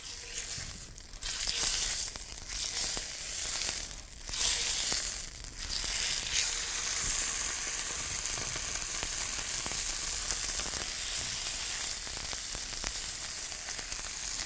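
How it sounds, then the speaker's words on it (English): Chicken breast is added to oil in a preheated cast iron pan and sizzles loudly, with several sharp bursts at the start settling into a steady close frying crackle. "Then we're going to take some chicken breast and add it to the pan."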